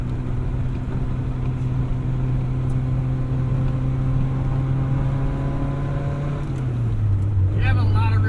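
A 1977 MG Midget's small engine drones steadily while driving, its pitch holding then dropping as it shifts gears, with a voice speaking briefly near the end.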